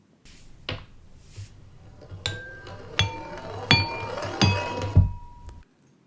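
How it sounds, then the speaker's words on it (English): A marble rolls down a ramp and strikes drinking glasses, giving four bright, ringing clinks spaced about evenly over a soft rolling rumble, then a dull thump at the end. "you're supposed to hear 4 equally spaced clinking sounds"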